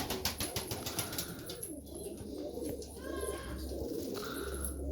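Tumbler pigeons coo repeatedly inside their coop, soft rhythmic calls up close with some wing and background rustle.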